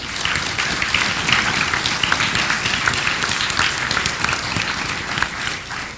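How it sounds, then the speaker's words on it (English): An audience claps steadily and densely, a full round of applause sustained evenly from start to finish. "we all owe Monroe College a great round of applause."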